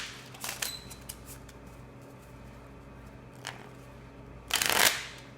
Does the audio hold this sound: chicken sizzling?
no